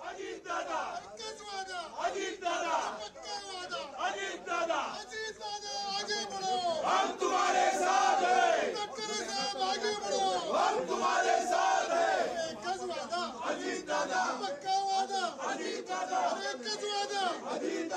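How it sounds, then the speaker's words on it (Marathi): Party supporters in Mumbai celebrating at Ajit Pawar's Devgiri bungalow, a large crowd cheering and shouting continuously, loud and dense with overlapping voices and no break. "तिथे त्यांचे समर्थक त्यांचे कार्यकर्ते जल्लोष करताना दिसत आहेत"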